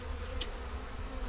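Honey bees buzzing in an open beehive during Kentucky winter preparation, a steady close drone of many wings with a brief louder pass near the start, and no talk.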